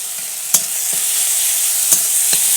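Onion paste and ginger paste fry in a pan for aloo dum, giving a steady bright sizzle. A few sharp scrapes and clicks of stirring cut through it. Nobody speaks.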